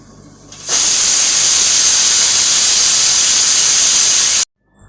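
A pressure cooker whistle releases a loud, steady hiss of steam for about four seconds, cooking vegetable kurma, then cuts off abruptly, close and harsh.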